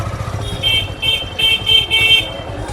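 A motorcycle is turned and ridden on a busy road in jammed traffic, its low engine rumble running under a series of short, repeated vehicle horn toots.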